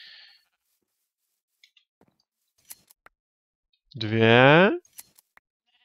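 A sheep bleats once in the Minecraft GalacticCraft game, a single loud, wavering synthetic bleat lasting under a second, amid scattered soft clicks and a brief voice at the start.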